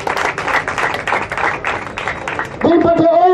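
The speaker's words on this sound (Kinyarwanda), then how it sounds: "Amashyi menshi cyane." A crowd at a Green Party rally in Nyarugenge, Rwanda, claps in a rapid, dense patter for a few seconds before a loud voice cuts in over it.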